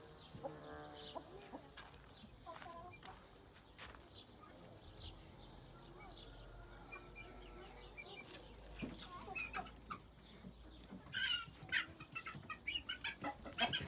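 Chickens cluck and a rooster sounds in a hobby coop in Taşköprü, Kastamonu, with scattered calls rising toward the end while a person talks nearby.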